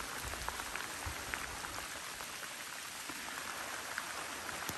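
Rain falls on a Kodiak canvas 10x10 tent in a heavy rainstorm, a dense, constant patter of drops on the fabric heard from inside, with scattered louder individual drips.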